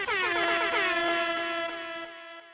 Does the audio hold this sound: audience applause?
no